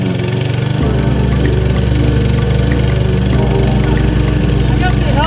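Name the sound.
lawn mower cutting grass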